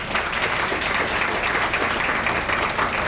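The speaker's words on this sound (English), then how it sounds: "another round of applause for our students from the Waco High School Jazz Band" Audience applause at a retirement reception fills the room, steady, dense clapping from many hands held at an even level throughout without a break.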